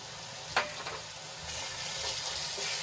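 Chili-ginger paste and green garlic frying with softened onions in a pan make a steady, close sizzle, with one sharp clink of stirring early on and the crackle rising slightly toward the end.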